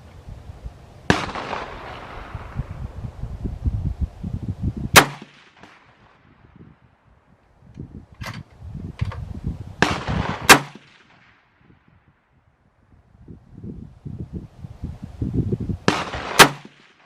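A PSL or AK-style RPK rifle fires at an outdoor range, giving several loud, close, sharp reports with echoing tails, spread across the clip between quiet gaps.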